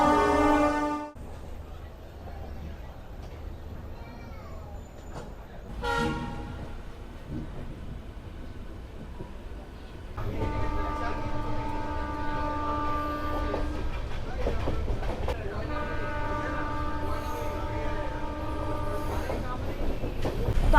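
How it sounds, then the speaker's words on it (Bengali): The Barbil Jan Shatabdi Express pulls out of Howrah station, a low rolling rumble building under tonal horn-like blasts and steady rail clatter, with a brief announcement-like chime early on. "আমাদের বারবিল জনশতাব্দী এক্সপ্রেস ছেড়ে বেরিয়ে যাচ্ছে হাওড়া স্টেশন থেকে"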